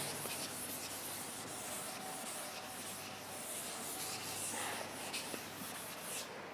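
A faint, continuous scrubbing of a duster rubbing writing off a board, steady and soft for several seconds with no talk.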